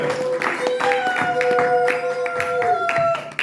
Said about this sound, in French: on va applaudir à notre roi des rois, le Seigneur des Seigneurs